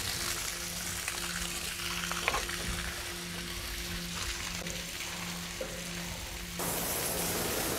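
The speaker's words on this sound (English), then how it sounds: "So this last final water flush should clean that up." Water flushes through a motorcycle gas tank being cleaned of brown deposits and scale, a steady rushing, sizzling wash with a regular low pulsing beneath it, heard close and unbroken.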